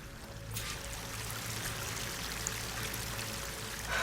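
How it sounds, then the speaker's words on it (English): A waterfall in Horizon Forbidden West rushes and pours as a steady, full wash of falling water that swells in after a brief quieter start and stays close and constant. "That waterfall must be coming from somewhere."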